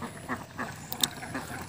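Ducks on a village pond, a flock of around three hundred, quack in short repeated bursts at close range, several calls overlapping over a quiet background.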